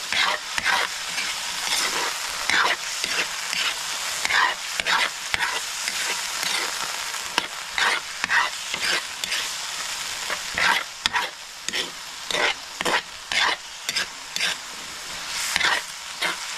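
Food being stirred in a frying pan, with repeated scraping and clattering strokes in an irregular rhythm over a continuous sizzle, loud and close, with no speech.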